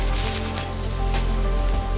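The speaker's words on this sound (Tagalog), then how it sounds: "Ay, lakas ng alon." Strong sea waves wash and churn on a beach, a continuous broadband roar of surf with swelling surges, loud and close.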